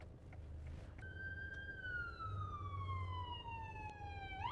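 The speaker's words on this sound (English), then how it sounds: "So we have an ambulance going by." An ambulance siren wails in a slow falling tone from a distance, over low traffic rumble, with the pitch dropping as it passes.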